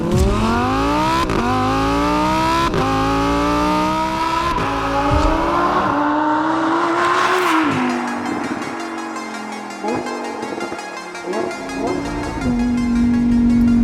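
Lamborghini Huracan EVO RWD with a 5.2-litre naturally aspirated V10 revving hard through several upshifts, each climb cut by a sharp gear change, then easing to a steadier drone near the end, loud and close with no talk.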